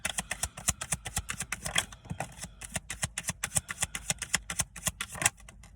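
Tarot cards being shuffled up close, a rapid, steady run of crisp papery snaps and flicks at several per second, with no voices, stopping abruptly just before the end.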